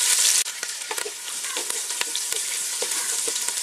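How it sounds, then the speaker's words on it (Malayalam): Large cubed onion sautéing in hot oil in a pan for vegetable pulao: a close, continuous sizzle broken by regular taps and scrapes of a stirring spoon. "ഇനി ഇതിലേക്ക് നമുക്ക് സവാള ചേർക്കാം. അപ്പോൾ ഒരു വലിയ സവാള ക്യൂബ്സ് ആയിട്ടാണ് അരിഞ്ഞേക്കുന്നത്. ഒന്ന് വഴറ്റിയെടുക്കാം."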